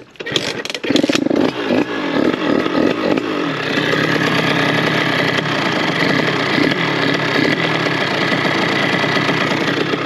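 A 70cc AM6 moped engine with a high-performance kit revs in sharp bursts and then rides off, its buzzing two-stroke drone settling into a loud, steady whine close by.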